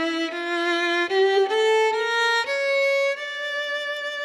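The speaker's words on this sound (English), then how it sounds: "A minor scale sounds like this." Bright, reedy instrumental tones step through a minor scale, one sustained note after another in an even line with smooth changes, close and clear with no talking.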